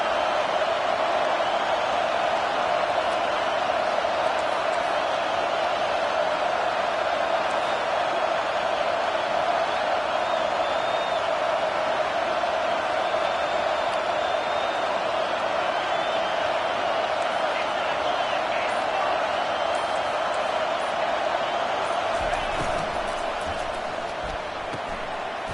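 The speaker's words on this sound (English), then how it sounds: "This offense trying to quieten the crowd on first and goal" A packed college football stadium crowd roars on first and goal at Michigan vs Oklahoma, a dense, loud, continuous wall of noise with speech faintly underneath.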